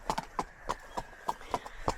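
Hooves of a small dun horse clip-clop in a steady, fairly close rhythm of about eight crisp strikes, heard alone without talk while out hacking.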